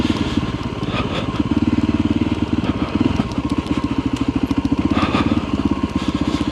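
A motorcycle ridden along a loose, flood-damaged trail in Spain, its engine chugging in a steady pulsing rhythm close by, with crackling from the ground and no talk over it.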